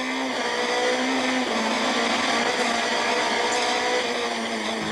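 A Nissan Primera touring race car, heard from onboard, holds a loud, sustained high-revving engine note with gear changes, continuous and close throughout.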